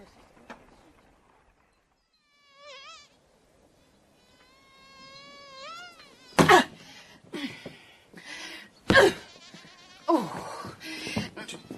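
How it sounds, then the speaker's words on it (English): Mosquitoes whine in thin, wavering buzzes in a period drama scene, a few faint passes drifting in and out of a quiet room before coughing and throat-clearing break in. "you have to do something about the mosquitoes before they're coming through the windows like Napoleon's army"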